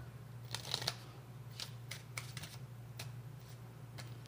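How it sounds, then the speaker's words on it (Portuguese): A deck of playing cards riffled in a Portuguese shuffle, heard as a run of short crisp card flicks and snaps at close range over a steady low hum, with no talking. "Baralhada portuguesa."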